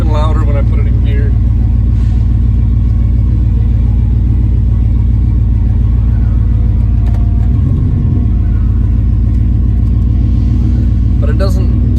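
A van's engine and exhaust rumble loudly and steadily in gear, a deep continuous drone right up close for the whole stretch, with a brief thump partway through.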